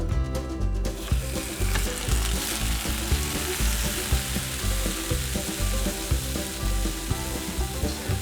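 Tomatoes sear in a hot pan over medium-high heat, giving a dense, continuous sizzle and crackle that stays loud and even throughout, with occasional stirring clatter.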